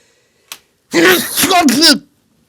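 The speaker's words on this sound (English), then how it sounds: "I need to sneeze, right?" One loud, close sneeze from a man on a podcast, a short breathy intake followed by a drawn-out voiced burst about a second long.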